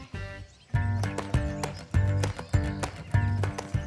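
A horse ridden bareback moves with steady rhythmic hoof clip-clops and snorting breaths, close and clear, no talking.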